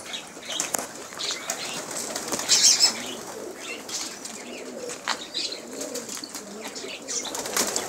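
Fancy pigeons' wings flap in bursts amid soft cooing and distant voices, with a brief louder flutter near the middle.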